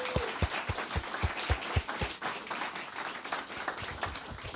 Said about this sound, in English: Last applause for this beautiful team.